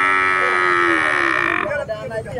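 A cow at a livestock market gives one long, loud, sustained moo that ends abruptly, with low market chatter and voices continuing after.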